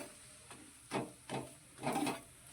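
Food frying in oil in a pan, soft sizzling broken by a few short scraping bursts as it is turned over, fairly quiet and close with no talk.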